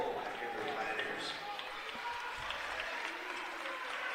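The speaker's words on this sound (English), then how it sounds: "Gerard Bosch getting a nice ovation from the Pioneer crowd as he heads back to the bench." Crowd applause and cheering from home fans at a college men's basketball tournament game, a steady broad wash of clapping filling the gym throughout, with faint voices mixed in.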